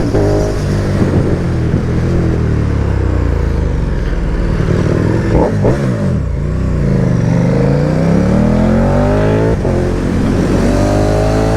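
A KTM motorcycle engine revs loudly and close by, with repeated throttle blips that sweep up and down in pitch over a rough, continuous idle.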